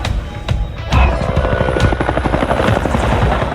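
Helicopter in a Sonic 3 movie scene: a loud, steady rotor thump and engine buzz that swells sharply after the first second and holds close throughout.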